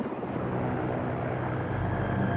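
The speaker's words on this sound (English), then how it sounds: "The engine gave a bit of a splutter." A light aircraft engine, low on fuel, drones loudly and continuously close by, a rough, even roar with no break.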